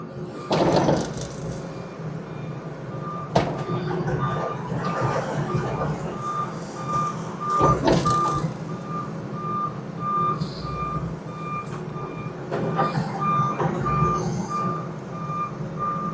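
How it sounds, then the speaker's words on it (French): A truck arriving at a small urban lot for a new house excavation, its engine rumbling steadily while regular reversing beeps repeat throughout, with clanks and an air-brake hiss mixed in, moderately close. "il y a un camion qui arrive"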